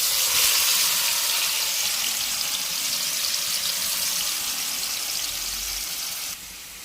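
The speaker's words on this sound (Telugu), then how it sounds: "ఆయిల్ వేడిన తర్వాత 15 మినిట్స్ మనం మ్యారినేట్ చేసిన పన్నీర్ని ఇందులో వేసుకుందామండి." Marinated paneer pieces sizzle in hot oil in a pan, giving a steady, bright hiss that holds evenly before it drops off near the end.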